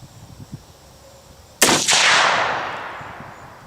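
A single loud shot from a 7mm-08 handgun firing a 162 grain AMAX round cracks out sharply and then rings off in a long fading echo, preceded by faint low handling noise.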